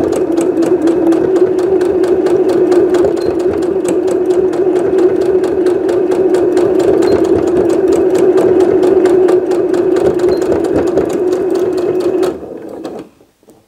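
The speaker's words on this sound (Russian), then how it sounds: "Теперь продолжаю строчить параллельно этому шву." A sewing machine runs steadily and close up, stitching denim on jeans with a fast, even mechanical hum and rapid needle rhythm for about twelve seconds before slowing and stopping.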